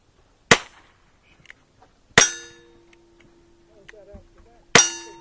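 Pistol shots striking steel targets at a shooting range: three sharp, loud metallic clangs spread a couple of seconds apart, each ringing out briefly. A quiet tonal hum and faint voices sit in the gaps between the hits.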